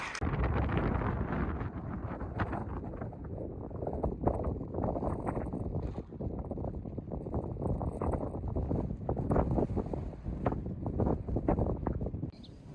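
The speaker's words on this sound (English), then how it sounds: "It's windy" Strong wind at Thousand Island Lake on the John Muir Trail buffets the microphone in loud, gusty rumbles that rise and fall continuously, with no voices.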